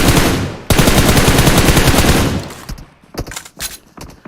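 Rapid automatic gunfire with heavy recoil in PUBG Mobile during a competitive scrim, a loud sustained burst of dense shots that cuts off, followed by scattered single shots and short bursts.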